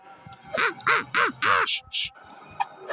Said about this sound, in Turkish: Kartal sesi.